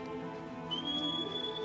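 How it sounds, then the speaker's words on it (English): Someone whistles a single rising, then steady, high note during a Shadow of the Colossus PS4 game session. The note is soft and sustained over a low game soundtrack, with no talking. "I like how you whistle."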